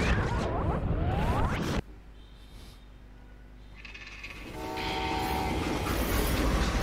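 A moving train in the Western shooter Call of Juarez: Gunslinger rumbles loudly, drops to a quieter interior rattle, then swells again with clanking wheels and a rising roar.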